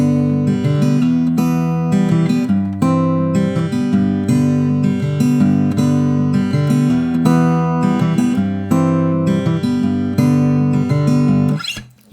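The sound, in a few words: acoustic guitar playing chorus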